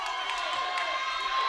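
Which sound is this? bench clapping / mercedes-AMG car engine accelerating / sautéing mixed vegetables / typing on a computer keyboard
bench clapping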